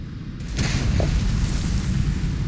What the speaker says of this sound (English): Explosions! We better be careful and run away.